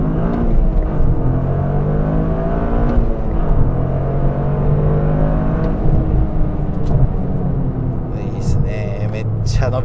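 A Toyota GR Corolla RZ accelerates hard from inside the cabin. Its loud, continuous engine note climbs steadily through the revs for about ten seconds with no break.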